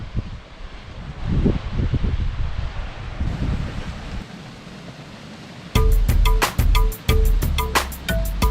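Cold wind buffets the microphone at Shoshone Falls near Twin Falls, Idaho, as a steady roaring rush. Sharp clicking taps and a brief rhythmic tone follow near the end.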